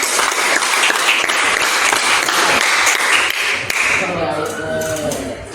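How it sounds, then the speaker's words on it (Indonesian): A school classroom of pupils applauds, a loud, dense burst of clapping that holds steady for several seconds and then fades as voices take over near the end. "Kita kasih aplaus dulu."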